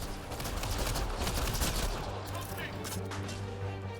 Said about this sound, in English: In fact, it has two guns. A machine gun